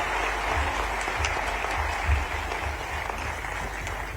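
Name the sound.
audience applause at workshop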